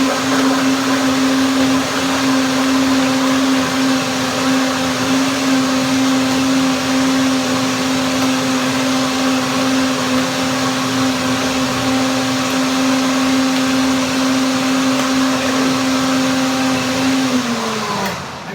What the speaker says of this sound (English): So now the blender dance,